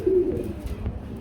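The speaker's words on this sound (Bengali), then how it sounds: "এইখানে বন্ধুরা আরেকটা জোড়া আছে না ভাই, শৌখিন কবুতর" A pigeon at a pigeon farm gives one brief, low, soft coo nearby.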